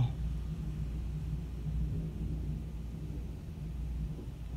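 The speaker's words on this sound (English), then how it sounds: "It's like constant rumbles of thunder." Low, continuous rumbling of thunder from a severe thunderstorm in southeast Michigan rolls on steadily, deep and fairly quiet, with no voices over it.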